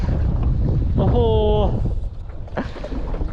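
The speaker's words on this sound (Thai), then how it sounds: "ลมแรงมาก" Strong wind buffets the microphone outdoors while a person fishes for snakehead with a frog lure: a steady, loud low rumble runs throughout, with a man's brief exclamation in the middle.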